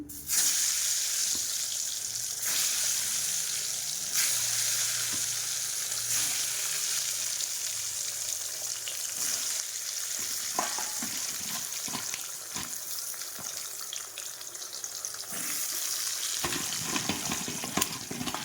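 Halved eggplant pieces, three eggplants cut into six, fry in a pan with a continuous loud hiss and sputter, punctuated by occasional clicks and knocks of handling.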